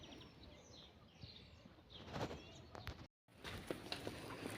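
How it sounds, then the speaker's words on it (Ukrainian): Birds chirping in a home garden with plants and a greenhouse, faint scattered calls over quiet outdoor ambience, with a few soft rustles and footsteps nearby. "Так дуже чути, як птахи співають."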